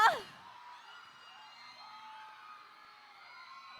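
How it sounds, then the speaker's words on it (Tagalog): A crowd at a packed fan event in Sorsogon erupts with a loud burst of shouting and whooping, then holds a sustained chorus of high cheering and yelling that carries on steadily to the end. "Kung sino yung may pinakamalakas sa sigaw, doon ko ihahagis to."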